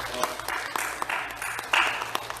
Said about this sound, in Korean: 다 같이 박수로